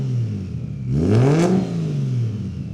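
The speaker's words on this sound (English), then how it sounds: "The exhaust sounds totally different. Hear it at idle now. It's much more growly." A Toyota Chaser with a 1JZ engine idling with a deep, growly exhaust note, a steady close drone that briefly swells with a light rev before settling back.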